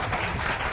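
Audience applause at an award ceremony held by a foundation, a short burst of steady, dense clapping from a crowd indoors.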